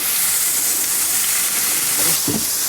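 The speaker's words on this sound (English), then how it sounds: "You want to hear that sizzling sound." Loud, steady sizzling hiss of lemon on a hot grill while grilling calamari, close up, continuous throughout, with a soft bump near the end.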